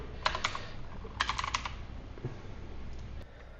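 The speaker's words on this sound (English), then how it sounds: "So we'll sign in with the same account as always. Type it correctly." Typing an account sign-in on a computer keyboard: a few short bursts of close, crisp key clicks separated by pauses, with a couple of isolated taps near the end.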